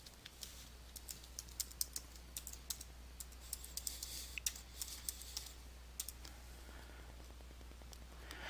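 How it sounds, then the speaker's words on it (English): Keys clacking on a computer keyboard while a new price level name is entered in QuickBooks accounting software, a steady run of light, quick clicks with scattered louder taps over a low hum, with no talking. "Start by typing a name for the new price level into the Price Level Name text box."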